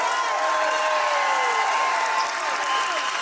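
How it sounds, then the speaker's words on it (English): A crowd at a street march in central London applauds and cheers, with sustained clapping and occasional whoops while talk carries on over it. "So can we just have a round of applause for all the Palestinian medics?"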